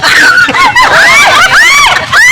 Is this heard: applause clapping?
no